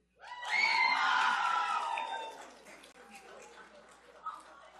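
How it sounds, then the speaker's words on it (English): Girls' basketball team and crowd scream loudly at a city commission meeting, a dense burst of high shrieking voices that peaks early, then fades into scattered cheering and chatter. "Now you can scream."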